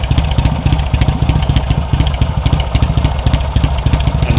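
A 1979 Triumph T-140E 750 Bonneville motorcycle with 13,600 original miles idles close by, a loud, even, rapid engine pulse with mechanical clatter that holds steady throughout, no voices.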